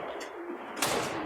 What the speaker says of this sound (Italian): quindi i rumori che sentite non sono che i piccioni